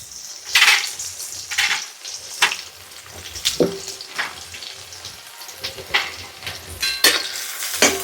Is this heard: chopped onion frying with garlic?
yes